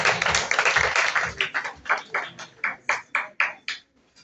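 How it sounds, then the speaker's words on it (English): An audience at a Red Bull Basement 2024 event applauds, starting as dense loud clapping and thinning into fewer separate claps that fade out. "A round of applause, please."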